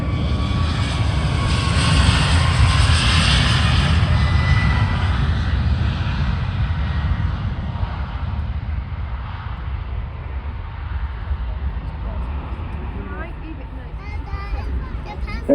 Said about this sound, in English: They're just been given cleared to take off.